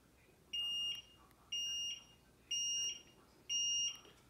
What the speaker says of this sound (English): So it just beeps like that.